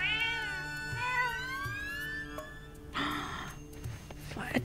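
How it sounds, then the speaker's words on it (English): Black cats in the video game Zelda: Echoes of Wisdom give several close, high mewing calls with rising and falling pitch, followed by a brighter squeal, over quiet game background music. "Adorable black kitty cats."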